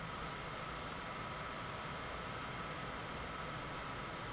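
An airliner coming in to land in Microsoft Flight Simulator, a steady, dense engine and wind roar that holds at an even level throughout, with no voices.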